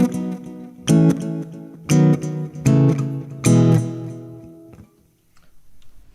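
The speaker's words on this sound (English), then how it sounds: "it's a really nice kind of organic sounding delay" Electric guitar through an organic-sounding delay effect, playing five bright plucked chords in a steady rhythm, each followed by a softer fading repeat, then trailing echoes dying away into near silence, with no talking.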